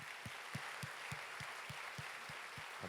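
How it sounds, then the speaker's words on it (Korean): Church congregation at a university-group worship service clapping, heard as a faint, even rhythm of single claps roughly three per second, soft and somewhat distant. "박수하도록 하겠습니다."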